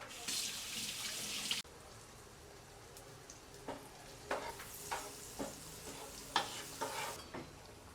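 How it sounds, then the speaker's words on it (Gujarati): Bread pudla frying on medium gas until crisp, first with a brief hiss, then a faint steady sizzle broken by scattered soft scrapes and taps of the turner. "મીડિયમ ગેસ ઉપર આને સરસ ક્રિસ્પી ખાવા દેવાની એક સાઈડ"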